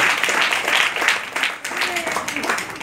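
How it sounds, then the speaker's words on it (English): Children applaud for their teachers at an event for intellectually disabled children, a steady crowd-wide patter of clapping with voices and cheering mixed in throughout. "A round of a big applause here."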